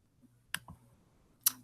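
A few sharp, quiet mouse clicks spaced irregularly against near silence, with one louder click near the end.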